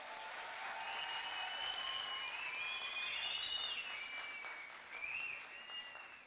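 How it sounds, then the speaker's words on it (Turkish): A talent-contest audience applauds a young contestant, a soft, distant wash of clapping with high whistles or cheers rising over it, continuing steadily throughout. "Kuvvetli bir alkış istiyorum bu gencimize"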